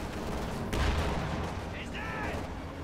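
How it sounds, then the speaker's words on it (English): Gunfire from a Sturmpanzer IV's machine gun upgrade in Company of Heroes 2, with a brief burst of battle noise beneath continuous game commentary. "Got a machine gun upgrade there on the Sturmpanzer 4."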